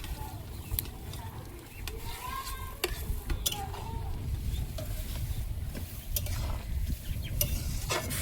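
Pond fish sizzle in a hot pan, a steady quiet frying hiss with scattered crackles and pops, and a voice occasionally murmuring in the background.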